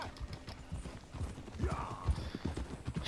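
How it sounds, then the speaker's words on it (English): Several horses trot in Red Dead Redemption 2, a steady overlapping clip-clop of hooves close by, with a brief whistling tone partway through. "Look at all our horses coming."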